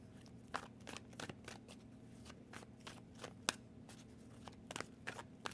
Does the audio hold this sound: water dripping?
no